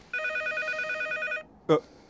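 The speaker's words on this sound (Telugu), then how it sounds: "ఇదేంటి ఫోన్ రింగ్ సౌండ్ వస్తుంది?" A telephone rings once with a bright, trilling electronic bell, then stops, followed by a brief spoken word.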